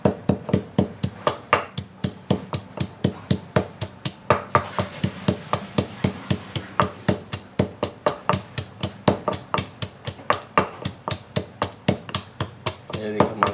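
Green chilies and salt are crushed for a tomato, mint and coriander chutney, with rapid, regular pounding thuds repeating steadily and close up throughout.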